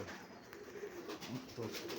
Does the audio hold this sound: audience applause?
no